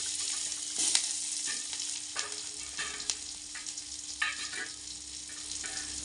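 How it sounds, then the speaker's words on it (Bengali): Chopped onions sizzle and fry in oil left over from frying prawns, a steady close crackle with brief stirring scrapes and clatters over it, no talking. "চিংড়ি মাছ ভাজার তেলে কেটে রাখা পেঁয়াজগুলো দিয়ে দেব।"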